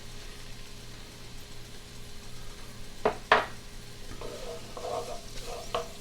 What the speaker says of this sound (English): next I'm going to put the jalapenos in